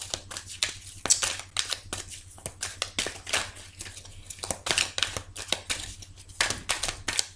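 Tarot cards being cut and handled, giving a string of crisp, close paper snaps and riffling flicks in an irregular rhythm, clear and fairly loud, with no talking.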